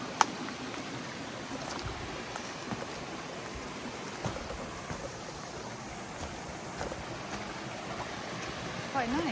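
A river flows in a steady, continuous rush of water over rocks, filling the whole stretch with an even broadband wash and no pauses.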